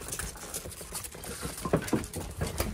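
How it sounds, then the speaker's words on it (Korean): Autumn rain patters steadily outdoors on a morning, with soft broadband drips and scattered light taps close by and no talk. "오늘은 비 오니까 비 맞지 말고 들어가자"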